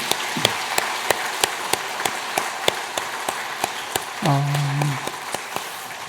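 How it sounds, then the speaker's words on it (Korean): A congregation at a Christmas thanksgiving church service claps in a steady, even rhythm, each beat sharp and distinct, with a brief voice rising over the beat near the end. "다시 한번 큰 박수 부탁합니다"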